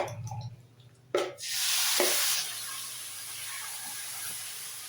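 Chicken pieces go into a hot pan for butter chicken masala, with a sudden loud sizzle and hiss after a clack, settling into a steady, softer frying hiss close by, with no talking.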